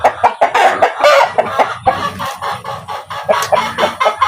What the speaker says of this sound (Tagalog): Mga tandang na native.